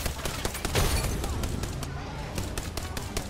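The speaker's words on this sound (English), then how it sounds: "They're shooting at me." Rapid automatic gunfire in the Apex Legends video game: bursts of shots crackle densely through the moment, fairly close and loud, with no clear gaps between volleys.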